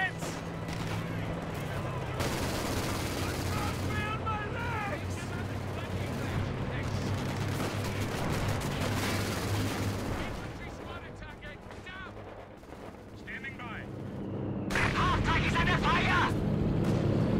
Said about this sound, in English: It's only bullets!